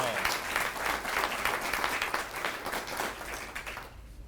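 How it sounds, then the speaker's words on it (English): An audience at the Fort Novosel volunteer of the year ceremony breaks into sustained applause, many hands clapping steadily with some voices mixed in before it fades out at the end. "Give them a round of applause."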